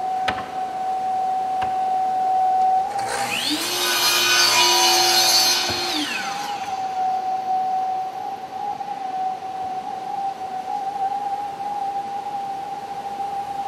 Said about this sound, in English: I would cut one rail and one toggle out of an 8-foot length